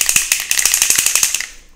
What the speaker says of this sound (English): So give it a good shake